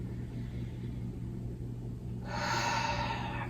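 During a deep yoga hip stretch, a long, airy exhale begins partway through and carries on steadily to the end, close and clear over a low background hum.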